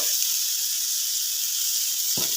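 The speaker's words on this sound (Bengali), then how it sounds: "অল্প তেলে বেগুনগুলি যাতে সুন্দর ভাজা হয়ে যায়" Brinjal pieces frying in a little oil on a tawa give a steady, close sizzling hiss that holds evenly throughout, with a brief low thump near the end.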